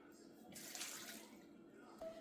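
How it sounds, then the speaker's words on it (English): Chicken cooking water is poured in a soft, steady stream into cornbread dressing, a quiet gentle splashing that swells briefly in the middle. "Now I'm going to start adding in this water that I cooked my chicken in"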